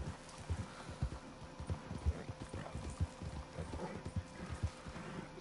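Galloping horse hooves in a video game, a steady rhythmic clip-clop of repeated low thuds running the length of the clip at moderate volume, with faint background ambience.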